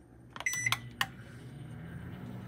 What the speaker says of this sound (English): we're gonna microwave it starting in 1-minute increments